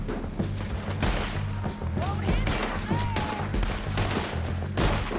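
Gunfire in the video game Red Dead Redemption II, rapid repeated shots cracking over a dense soundtrack of game noise, loud and continuous with some whistling effects mixed in.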